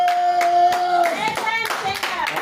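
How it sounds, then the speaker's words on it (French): A church congregation applauding during a Sunday praise and worship service, rhythmic group clapping in a steady beat while a sustained tone and voices carry underneath. "on va continuer à acclamer jusqu'à ce que le pasteur arrive"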